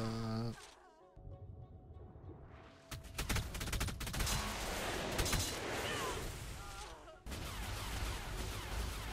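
Turret gunfire during a raid in Ark, sounding as dense, rapid volleys of shots that run almost continuously after a quieter start, with a brief voice at the very beginning.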